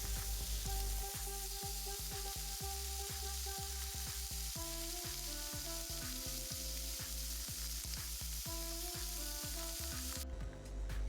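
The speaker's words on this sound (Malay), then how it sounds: "Kita tumiskan pula bahan-bahan lainnya, iaitu bawang putih, bawang merah, cili besar, cili padi." Garlic, shallots, large red chillies and bird's eye chillies sauté in hot oil in a pan, frying until wilted, with a steady loud sizzle and repeated clinks of a utensil stirring throughout.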